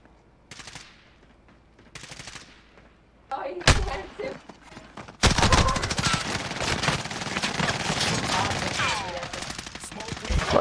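Rapid bursts of automatic gunfire crackle through a video game shootout, sparse single shots early giving way to a dense, sustained volley, with voices talking over the action.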